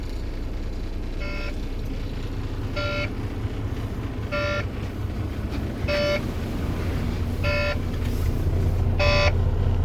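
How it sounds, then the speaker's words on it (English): Truck low air pressure warning beeping in five evenly spaced electronic bursts about every second and a half, clear and steady above a constant engine idle rumble inside the cab, with no talk. "It's only beeping because of low air."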